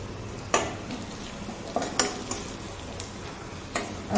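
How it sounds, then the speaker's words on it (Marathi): Garlic with red chili powder and turmeric frying in a pan for kothimbir vadi, a steady sizzle broken by several sharp clicks of a spoon stirring against the pan, close up and without talk. "छान असं लसूण भाजला त्यामध्ये लाल तिखट आणि हळद टाकली"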